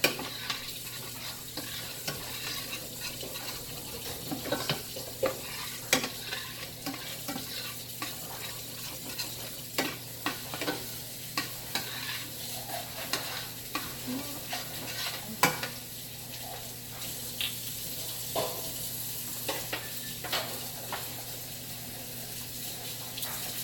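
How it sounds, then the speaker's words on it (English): A tablespoon of flour being stirred and cooked in a pan for a Cajun cream sauce, a soft bubbling sizzle beneath repeated scraping strokes of a utensil, close and steady with no talking. "I'm going to add a tablespoon of flour and cook that out for about 2 to 3 minutes."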